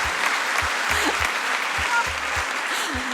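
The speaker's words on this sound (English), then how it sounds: "Please give her another round of applause." Steady applause fills the room after a soca dance performance at a dance competition, continuous and moderately loud, with low rhythmic music thumping beneath it and faint voices in the mix.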